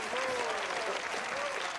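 Applause at a charity banquet honouring a benefactor of underprivileged children in Beverly Hills Cop 3, a brief burst of crowd clapping with a voice speaking over it.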